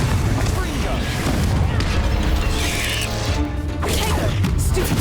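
Booming fire-spell blasts from Confringo in the Hogwarts Legacy video game burst through dense game action, with a voice casting spells amid the clatter.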